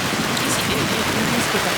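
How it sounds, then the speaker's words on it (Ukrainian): Heavy rain pours down in Copenhagen, heard from beneath a café umbrella: a loud, dense and unbroken hiss of water close by, with no pauses for the whole moment. "І ми сидимо і чекаємо е, перечекати цей дощ."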